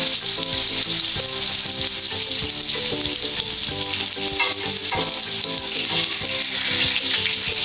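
Chennai-style masala-coated fish frying in hot oil, a steady loud sizzle throughout with occasional soft scrapes of a ladle, no voices.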